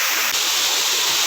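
Kinahulugan Falls in Lagonoy, Camarines Sur, gives a loud, steady rush of falling water, a broad continuous hiss close by with no talking.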